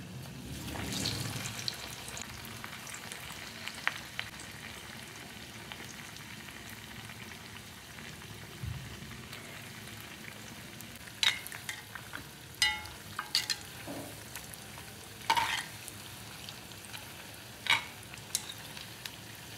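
Vada, potato fritters for vada pav, frying in hot oil give a steady soft sizzle throughout, broken by brief louder splashes and crackles as more pieces are dropped in and stirred.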